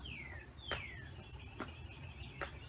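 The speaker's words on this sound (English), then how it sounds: "It's awesome out here with the sounds of the birds." Birds chirp outdoors during an outdoor workout, with several short, sweeping calls spread over a few seconds against a steady background hum.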